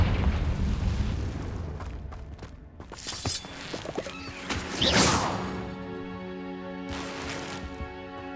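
Confringo fire spell explosions in Hogwarts Legacy, rumbling blasts and bursts with whooshing flame, a big boom near the middle and more crackling impacts over game music.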